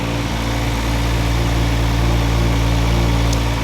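RB30-powered Nissan GTR engine idling, a loud, steady, deep rumble that holds continuously and close up.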